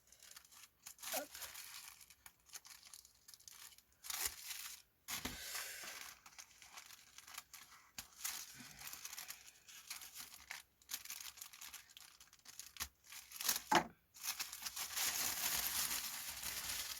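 Adhesive tape torn off the roll in short, crackly rips, several quick pulls spaced through the scene among crinkling and handling noises, close and moderately loud, with occasional talk.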